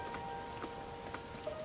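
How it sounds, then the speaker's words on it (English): Soft, steady rain patter in the video game The Legend of Zelda: Tears of the Kingdom, with scattered droplet ticks, quiet and continuous, with a faint tonal hum running underneath. "Oh, it's raining."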